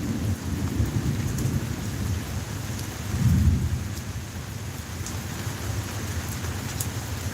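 Thunderstorm with steady heavy rain on surfaces and a low rolling rumble of thunder swelling midway, loud and continuous, with no voices.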